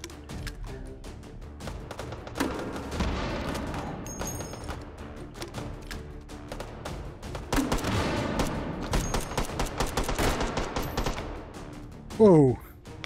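Gunfire rings out in the VR game Hot Dogs, Horseshoes & Hand Grenades in scattered bursts of sharp shots and rapid volleys with thuds in between, moderately loud, ending with a brief louder clatter.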